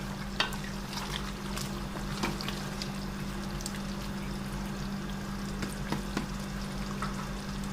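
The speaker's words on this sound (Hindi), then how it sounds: "अब इसके अंदर डालते हैं अदरक लहसुन का पेस्ट 3 चम्मच। इसको भी मिक्स करते हैं अच्छी तरह।" Ginger-garlic paste is being mixed into a white chicken karahi in the pan, a low steady sizzle with scattered light clicks and scrapes of stirring, fairly quiet and with no talking.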